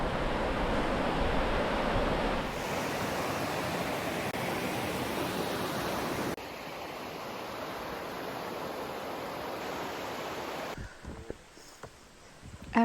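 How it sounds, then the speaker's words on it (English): A river along a Cascade foothills hiking and mountain-bike trail near North Bend, Washington, rushing steadily as a broad, loud wash of flowing water that shifts in tone partway through and thins near the end, with no talking. "We are back to the river."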